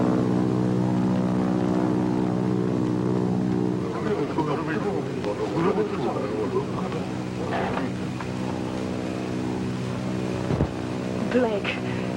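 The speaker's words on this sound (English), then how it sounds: "Might be Army planes." Army propeller planes drone overhead in a steady, deep hum with strong harmonics that holds throughout, while people talk beneath it.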